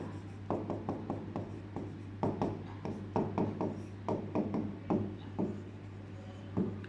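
Code is written on a board during a classroom lecture, with rapid irregular tapping and scratching strokes in bursts over a steady low electrical hum.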